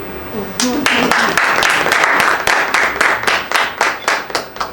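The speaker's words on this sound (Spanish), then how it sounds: "Un aplauso." Audience applause at a talk honoring a baseball Hall of Fame pitcher. Dense clapping rises abruptly, holds steady and loud, then thins into separate sharp claps toward the end.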